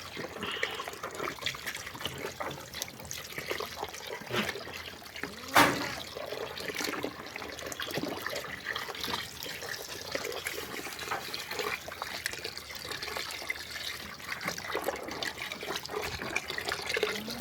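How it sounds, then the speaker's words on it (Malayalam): Water is poured and sloshed into a goat feed mix of oil cake, salt and lumpy cattle-feed powder, a faint, steady trickling wash with one brief louder splash near the middle and no talk. "വെള്ളം ഒഴിച്ച് കൂട്ടുവാണിപ്പോൾ"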